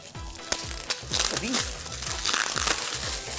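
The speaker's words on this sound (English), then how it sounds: "And please unwrap it." Wrapping paper on a gift crinkles and rustles as it is unwrapped, close and fairly quiet, with sharp crackles scattered throughout while voices talk and murmur over it.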